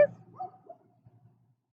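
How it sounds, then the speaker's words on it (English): A dog barks in the background, giving a couple of faint, brief yips and whimpering barks in an otherwise quiet room, fading out within about a second and a half. "you can hear Maverick in the background there barking"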